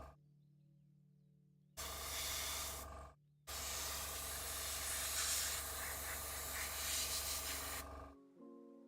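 Airbrush spraying paint onto a Warhammer 40k miniature: a steady close hiss in two long bursts, the first short and the second sustained for several seconds, with a quiet hum in the pauses between.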